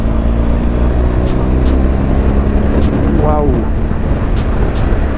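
A BMW GS Adventure motorcycle engine pulls hard in sixth gear to overtake, a loud continuous roar with heavy wind rush throughout, and the rider exclaims briefly partway through.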